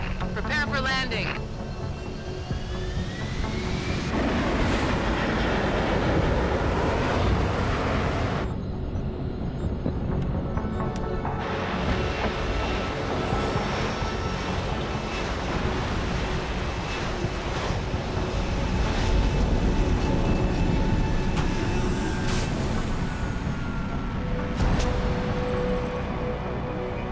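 Aircraft roaring in to land in Deus Ex: Human Revolution, a steady loud rush of engine and wind noise throughout with shifting tonal whines, under a voice talking.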